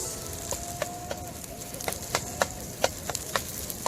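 Onions and potatoes fry in a pan outdoors by a lake, with a steady soft sizzle broken by irregular sharp clicks and taps of a utensil against the pan.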